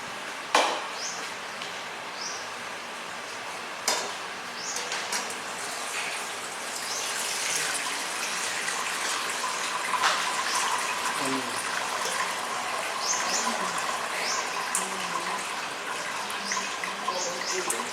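Water pours steadily into a container for a long stretch during cheesemaking, a soft continuous splashing trickle with a couple of knocks near the start.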